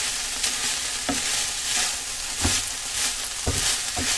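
Minced meat frying in a pan in a motorhome kitchen, a loud continuous sizzle broken by several dull knocks of a utensil stirring and breaking up the mince.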